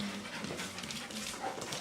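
Standard poodle puppies panting and whimpering close by, with soft rapid breaths and brief high whines over quiet room noise, no talking.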